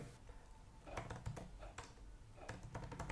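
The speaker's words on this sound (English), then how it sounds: "So I'll quickly type and create one file" Keys clatter in short uneven bursts as someone types on a computer keyboard at a desk, creating a text file, with faint clicks close by and no talk.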